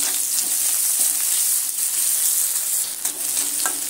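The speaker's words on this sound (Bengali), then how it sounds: "পেঁয়াজটা আমি এখানে একটু লাল লাল করে ভেজে নিচ্ছি।" Chopped onion sizzles steadily in hot oil in a pan for a home-style mixed vegetable dish, a continuous close crackling hiss with faint stirring scrapes and no voices.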